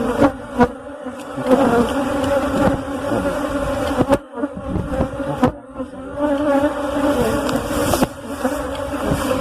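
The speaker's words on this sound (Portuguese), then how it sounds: "Essa colmeia está mais populosa, né?" Honey bees buzz densely at a populous apiary hive with plenty of brood, a loud continuous swarm drone close by, punctuated by brief bumps and knocks.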